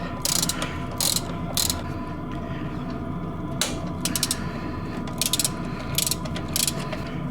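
A hand wrench works a 13 mm nut on a VAZ-2109, giving bursts of rapid ratchet clicks in short irregular runs over a steady mechanical background hum.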